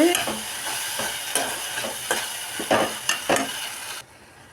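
Tomato and mushroom masala gravy sizzles steadily in a pan, broken by several sharp stirring scrapes before the cooking noise drops off abruptly near the end.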